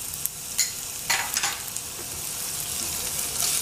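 Ginger garlic paste fries in about two tablespoons of heated olive oil, a soft continuous sizzle broken by a few sharp stirring scrapes and crackles.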